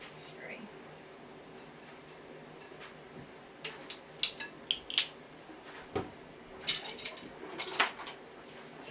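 Stirring a tray bake mixture in a bowl, a series of clinks and scrapes from a spoon against the bowl in irregular bursts over quiet room tone, with talk in the background.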